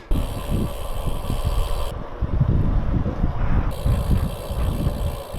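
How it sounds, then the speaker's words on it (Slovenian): Wind blowing across a cyclist on a climb from Hum to Kojsko, a continuous loud rumbling roar with pulsing gusts, alone with no voices. "Še zmeraj piha, ampak bistveno manj kakor v Novi Gorici."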